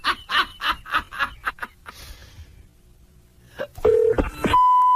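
Touch-tone telephone dialed on a played prank-call tape, a few beeping keypresses followed by a steady tone, after a burst of snickering laughter and a short quiet gap.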